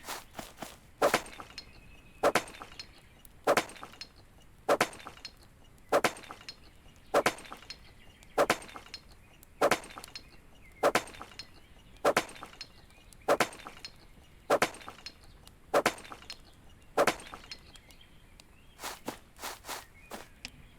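Steady rhythmic chopping strikes, one sharp hard knock roughly every second, repeating evenly with faint game ambience between hits.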